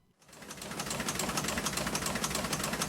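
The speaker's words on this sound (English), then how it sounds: "That's the sound of the historic press in the Vineyard Gazette offices in Edgartown printing the paper." Edgartown's historic Vineyard Gazette newspaper press runs steadily, with a rapid mechanical clatter over a continuous rumbling hum that holds at a constant moderate level after a brief start.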